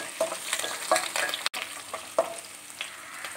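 Chopped garlic and green chilies fry in oil in a pan for a Kerala chicken curry, with a close, steady sizzle broken by scraping stirring strokes.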